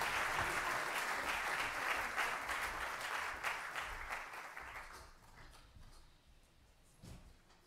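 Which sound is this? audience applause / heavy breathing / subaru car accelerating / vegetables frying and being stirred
audience applause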